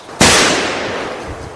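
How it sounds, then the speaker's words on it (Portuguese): A single sharp blast from a 1645 Brazilian sugar war skirmish cracks out, loud, with a long rolling echo that fades slowly afterward. "Esses tiros, eles estão chegando"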